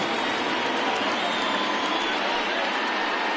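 A baseball stadium crowd of over 38,000 on its feet, a dense, steady roar of cheering and noise that fills the whole stretch evenly and loudly, with no pauses.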